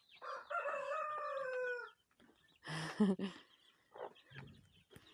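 A hen with four chicks gives a drawn-out call, then a burst of loud clucking and a few softer clucks nearby.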